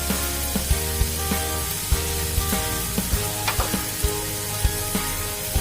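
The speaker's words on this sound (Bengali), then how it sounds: "দেখো এবার এটা কিন্তু বেশ সুন্দর ভাজা ভাজা হচ্ছে" Ground turmeric and cumin sizzle in oil in a pan for egg devil, a dense steady hiss broken by frequent light taps and scrapes of stirring.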